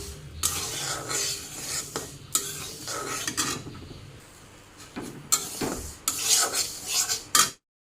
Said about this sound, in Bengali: এখন মুগ ডালটা ভালো করে ভেজে নিই একটু